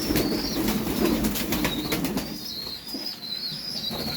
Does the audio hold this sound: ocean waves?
no